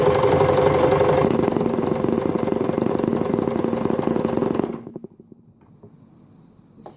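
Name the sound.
Empisal Dressmaker 270D sewing machine stitching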